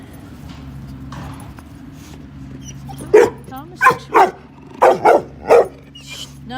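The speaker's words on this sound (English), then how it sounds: "He's not into all your barking." A dog barks indoors in a quick series of about six loud, sharp, close barks, coming in pairs after a short spoken word.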